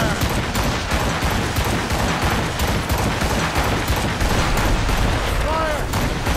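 Ship cannon fire in the Assassin's Creed Rogue naval battle, a loud, dense barrage of overlapping booms and crackling blasts rolling continuously, with shouted voices faintly mixed into the roar.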